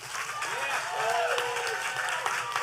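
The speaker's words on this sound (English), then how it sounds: "let's just give one more round of applause for all of our finalists." An audience at a healthcare workers' singing contest grand finale applauds its finalists, with a sustained wash of clapping and crowd noise and a voice speaking over it.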